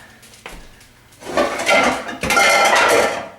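A medium pot and a large pan clatter as they are pulled out and handled, a faint knock first, then two loud bursts of metallic clanking and scraping close by, with no talking.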